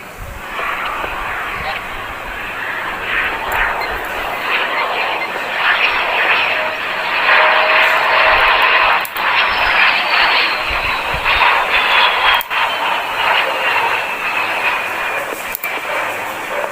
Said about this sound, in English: The Tejas is designed as a single-engine, multi-role combat aircraft.